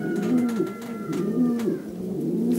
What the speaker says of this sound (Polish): Takie najbardziej agresywne gołębie.